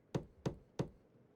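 Three even knocks on a door in the video game Legend of Heroes: Trails Beyond the Horizon, sharp and close, spaced about a third of a second apart, then quiet.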